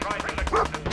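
Rapid bursts of automatic gunfire from a Fallout 4 firefight crackle loudly and continuously through the second, a dense rattle of shots with a voice murmuring faintly underneath.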